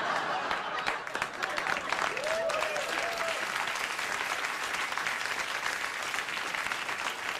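A late-night talk show studio audience breaks into sustained applause, steady dense clapping with a brief whoop or cheer near the middle, loud and continuous throughout.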